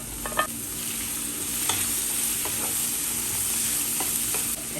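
Tomato and capsicum sautéing in a pan, added to other ingredients being cooked for beetroot-egg rice, with a steady close sizzle and a few brief scrapes of stirring, no voices.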